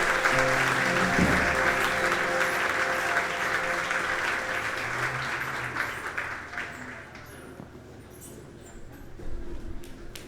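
A church congregation claps in a sustained wash that fades gradually toward the end, with faint voices and a little music underneath.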